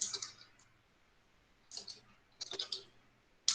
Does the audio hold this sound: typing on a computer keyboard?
yes